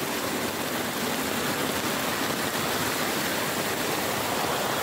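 A swollen, overflowing river rushes past as a steady, loud, dense roar of water with no breaks throughout.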